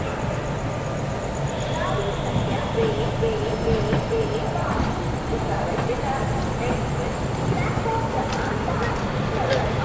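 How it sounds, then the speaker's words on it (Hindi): The Udhna Banaras Superfast Express runs on after leaving Itarsi Junction, giving a steady, continuous rolling rumble heard from inside the coach, with faint background voices mixed in. "अपनी उधना बनारस सुपरफास्ट एक्सप्रेस निकल चुकी है इटारसी जंक्शन से"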